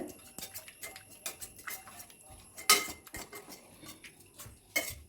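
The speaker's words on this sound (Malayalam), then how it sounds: "ഞാനിവിടെ ഈ തവി കൊണ്ട് നന്നായിട്ടൊന്ന് ഉടച്ചെടുക്കുന്നുണ്ട്" A ladle mashes cooked ash gourd in a pot, producing quiet, irregular clinks and soft knocks of metal on the pot, with a few sharper taps.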